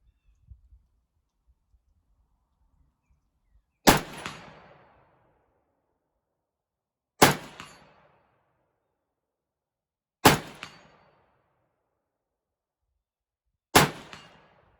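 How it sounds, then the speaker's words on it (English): Four sharp rifle shots of reloaded 300 Blackout rounds with Hornady 110-grain V-Max bullets, fired at a steel target and spaced a few seconds apart. Each crack decays quickly into a short ringing tail against an otherwise quiet range. "let's move up to the steel now. Just put a couple rounds up there on that."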